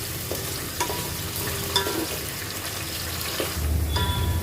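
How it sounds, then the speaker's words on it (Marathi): Potatoes frying in oil in a pot for prawn biryani, giving a continuous close sizzle and crackle with occasional stirring scrapes and small pops throughout. "सगळ्यात पहिलं आपण बटाटे फ्राय करून घ्यायचे"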